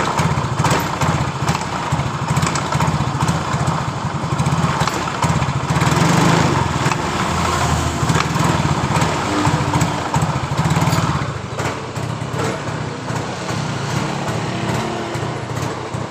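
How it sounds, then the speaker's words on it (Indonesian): A small motorcycle engine runs loudly and close, revving and sputtering unevenly as the throttle is pulled, then settling slightly lower toward the end. "Dengarkan ketika saya tarik tuas gas."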